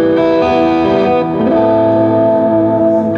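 Electric guitar played through a Vox AC30 with compressor, tube screamer overdrive and Echo Man delay, sustained chords ringing with a lightly driven, echoing tone, loud and alone.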